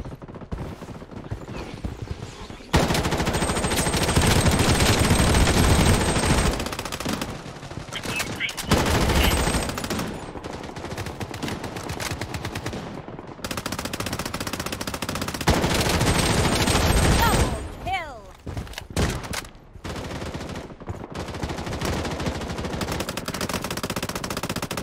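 Gunfire in the shooter Project: BloodStrike, loud automatic bursts coming in long stretches with short gaps between them, close and dense, with occasional talking mixed in.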